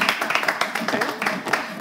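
A live audience claps in quick, uneven bursts for a presenter stirring something on stage, with voices mixed into the steady patter of hands.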